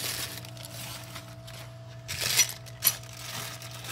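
Allen keys and small bagged parts clink twice in quick succession, light and close, while a Harbor Freight Hercules portable band saw stand is unboxed over a quiet background hum.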